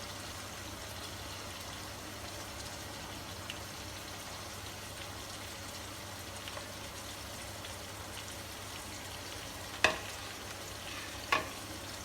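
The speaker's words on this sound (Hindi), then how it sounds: "इसको अच्छी तरह से भून लेंगे" Masala with garlic paste frying and being stirred in a pan for kadhi pakora, a faint steady sizzle throughout with a couple of sharper clinks of a spoon near the end.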